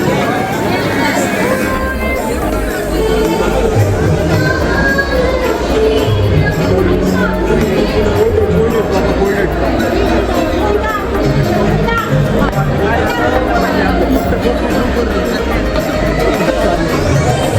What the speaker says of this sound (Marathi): बाकी मंदिर बघा गर्दीने पक्का भरले आज.